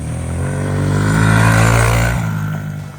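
A Honda CRF110 fitted with a big wheel kit rides laps around a shop, its small engine buzzing loud and close, revving up to a sustained peak and then easing off as the rider drops speed.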